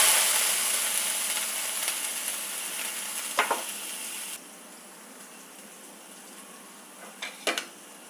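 Ground coconut paste sizzles in hot coconut oil in a home kitchen, a steady frying hiss that drops quieter halfway through, with a few brief clinks of a spoon or pan.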